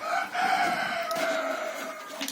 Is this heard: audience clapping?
no